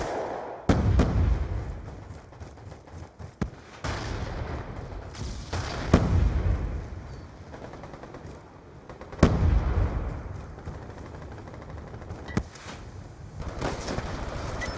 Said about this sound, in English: Hostile grenade! Can't confirm. Grenade!